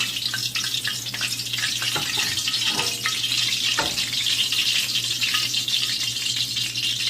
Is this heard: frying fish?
yes